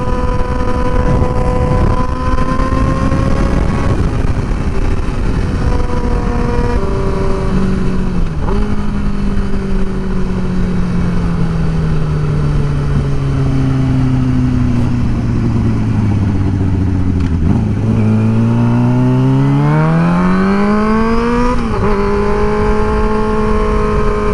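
Yamaha R6 sport motorcycle engine revving loud and close, pitch climbing and dropping through repeated throttle pulls and gear changes, then rising sharply again toward redline with no voices.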